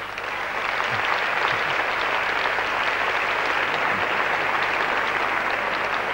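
A concert hall audience applauds the Monte Carlo Philharmonic Orchestra at the 1993 Monte Carlo Piano Masters, with dense, loud, sustained clapping from a large crowd, steady from start to finish.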